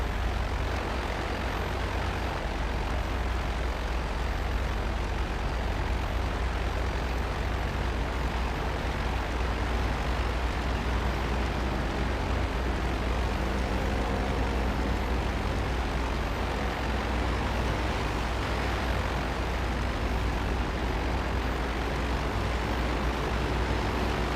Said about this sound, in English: Look how I turn my plane with just rudder.